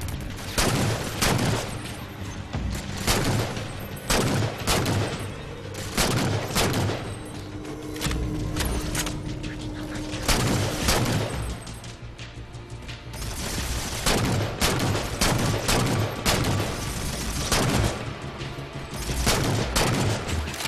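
Rapid gunfire fills a Halo 4 firefight, dense volleys of shots and booms crackling in repeated bursts with brief lulls, loud and continuous.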